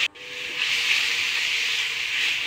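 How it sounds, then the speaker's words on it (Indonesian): A close, steady hiss of onions sizzling in hot oil, with a brief dip at the start before the crackling hiss settles in. "Terus ini tumis-tumis bawangnya sampai dengan wangi."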